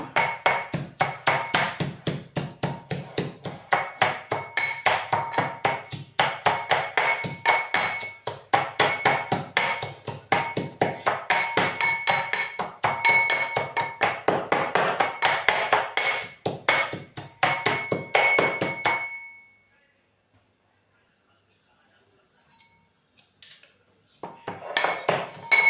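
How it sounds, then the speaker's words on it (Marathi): Green chilies and garlic with salt are pounded in a stone mortar, loud rapid rhythmic thuds and clinks repeating steadily for about twenty seconds, then a pause with a few scattered knocks near the end. "हिरवी मिरची आणि लसूण मी आता कुटून घेतलं."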